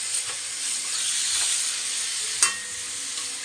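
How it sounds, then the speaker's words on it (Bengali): Raw meat hits freshly fried spices in a hot pan with a loud, continuous sizzle and hiss, broken by one sharp clink of a utensil near the end. "এখন আমি এর ভিতর এই যে জল ধরানো মাংসটাকে ঢেলে দিলাম"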